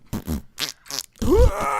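A man imitates fart sounds with his mouth in a beatbox style, giving several short sputtering bursts followed by a longer groaning blast, close and loud.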